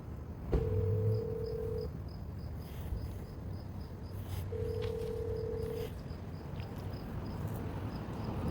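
A telephone call being placed, with two long, steady electronic tones spaced a few seconds apart over a quiet room hiss, followed by a faint background chirping.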